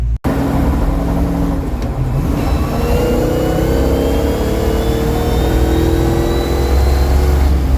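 Ford Mustang engine accelerating on the road with the headlights on, a loud, sustained mid-pitched roar whose tone climbs steadily through the gears after a brief dip at the start, with no voices.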